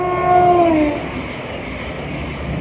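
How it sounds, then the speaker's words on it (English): A train pulls away from Hatfield station in Hertfordshire, opening with a short two-tone horn blast, then fading into a rolling rumble of wheels and wagons as it departs. "that was the train heading out"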